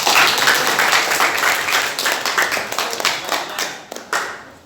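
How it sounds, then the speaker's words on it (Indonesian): A classroom of students claps for a classmate, a dense burst of close applause that thins into scattered claps near the end. "Oke, tepuk tangan buat Vicky."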